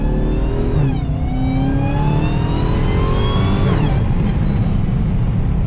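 A Dodge Challenger Widebody Hellcat accelerates hard, its supercharger whine climbing in pitch through a couple of gear pulls over a loud, close engine roar, with no speech.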